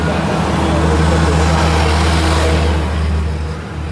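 A car driving along the road on a trip from Ghatkopar to Kolhapur, steady loud engine and road rumble heard from inside the cabin, constant throughout and easing slightly toward the end.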